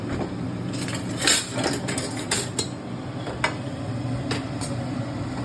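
Metal spoon clinks and scrapes against a pot as spice powders are stirred into sambar, with several sharp taps over a steady background hiss.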